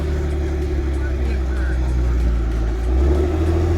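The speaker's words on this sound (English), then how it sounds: "your back wheel is just spinning" A 1998 Isuzu Amigo 4x4 drives off-road with its back wheel spinning, a loud, steady low engine drone and tire churn close by that swells slightly near the end.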